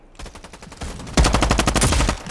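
Automatic gunfire in a Roblox shooting game: a loud, fast stream of rapid shots that grows heavier and more intense midway, rattling on steadily to the end without a pause.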